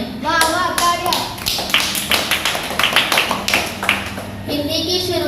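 Audience clapping at a Hindi Diwas school program, a burst of dense applause with sharp hand claps between stretches of a voice speaking nearby.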